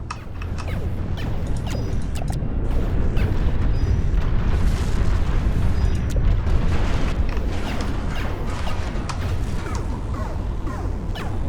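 Rapid, continuous anti-air fire from an Umbrella unit in Planetary Annihilation, a dense rumbling barrage of booms and mechanical clatter that stays loud and steady throughout with no pauses.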